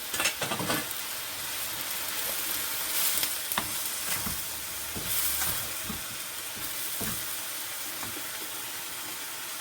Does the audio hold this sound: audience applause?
no